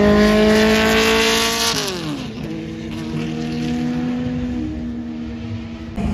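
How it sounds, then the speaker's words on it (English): Ferrari cars roar loudly past on a racetrack, their engine notes sustained and then dropping sharply in pitch as one car passes close by, before settling back into a steady, overlapping drone. "Absolutely incredible seeing hundreds of millions of dollars worth of Ferraris that we saw earlier in the tent. Now on track, making a lot of noise."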